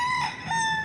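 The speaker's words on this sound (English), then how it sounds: "I love to see chickens." Chickens crowing and clucking outdoors in Ybor City, Tampa, a rooster's crow rising over nearby fowl calls in a short, close, clear burst.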